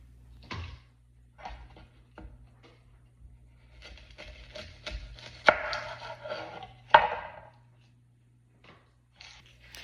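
A knife cuts the tops off two heads of garlic: a few soft taps, then two sharp, louder cuts close by in the middle. Quiet gaps separate them and no one speaks.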